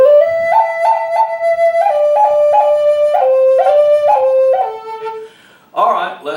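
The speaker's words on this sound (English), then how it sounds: "It's called finger pop, and it sounds like this." A Native American flute is played with the finger pop technique. Short repeated notes pop out in quick groups of three as the melody steps down, followed by a brief breathy burst at the end.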